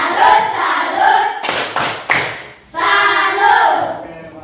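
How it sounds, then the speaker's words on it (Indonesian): A classroom claps a rhythmic salute during a lesson on Pancasila symbols. Short sharp clapping bursts sit between loud chanted voices, with the children's voices resuming after the claps. "Harus tepuk salut untuk dia dulu. Salut, salut."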